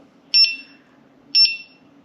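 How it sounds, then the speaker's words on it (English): An electric unicycle gives two short, shrill electronic warning beeps, each a quick double chirp, about a second apart over a faint low hum. "I hate that beep though."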